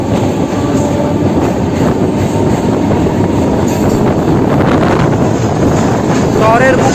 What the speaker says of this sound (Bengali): শহরের বুক চিরে আমাদের এই ট্রেন যাচ্ছে।